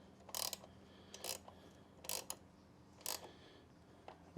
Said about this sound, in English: So we're going to tighten this bolt up.